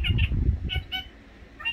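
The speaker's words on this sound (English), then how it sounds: "Do you think a certain bird has a lot to say?" A chatty pet bird calls indoors in a few short, close squawks and chirps, with low background rumble under the first half.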